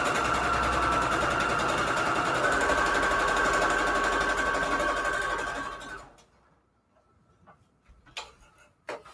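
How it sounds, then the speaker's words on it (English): A sewing machine stitches fabric scrap strips together, running steadily and close with a fast, even mechanical chatter for about six seconds before stopping, followed by a few faint handling knocks. "Let's just sew that onto this right here."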